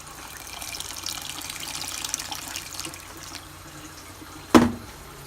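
Water running from a tap into a pot for boiling pumpkin, a soft steady gushing stream that fades, ending with a sharp clunk of the pot.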